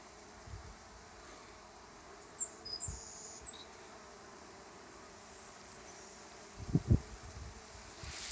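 Honey bees buzzing steadily around a hive feeder of sugar water outdoors, a soft continuous drone with occasional closer passes swelling briefly louder, no talking.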